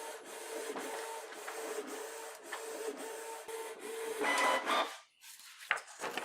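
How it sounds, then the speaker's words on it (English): A Canon Pixma TS3122 printer runs a print head alignment, giving off a quiet, close mechanical whir and rasp. The sound comes with rhythmic ticks and carriage sweeps, then drops to near silence with a few clicks at the end. "we're going to click the button to start a print head alignment"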